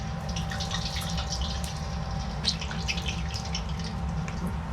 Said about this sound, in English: We're going to add the pork chops one by one